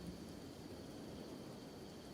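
Steady rain with a low thunder rumble in the Kenshi video game on the Fishman Isles, a constant dense hiss under a faint low roll, quiet and unbroken, with no talking.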